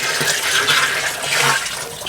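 Liquid fish amino acid fertilizer pours steadily into water held in a drum, a continuous gushing, splashing flow heard up close for about two seconds with no talking.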